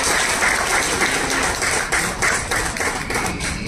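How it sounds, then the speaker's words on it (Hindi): Audience applause at a Bollywood film launch event, a loud dense wash of clapping from a large crowd lasting the whole stretch with small swells. "मैं चाहूंगा कि उनके लिए जोरदार तालियां बजाएं"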